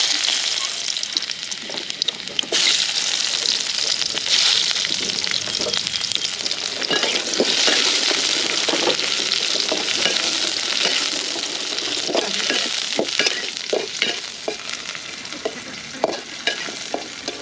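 Chopped garlic fries in a pan for a potato and thankuni (Indian pennywort) curry, giving a steady close hiss with scattered scraping clicks of stirring throughout.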